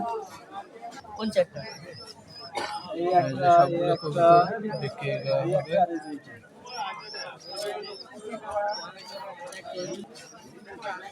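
Pigeons coo in a crowded pigeon market, their soft throaty calls overlapping near and far beneath steady chatter and voices of people talking.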